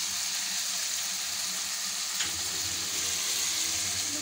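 A pan of chicken with cream and cheese cooks steadily, giving a soft continuous sizzle with a faint scrape midway, fairly quiet and without talk.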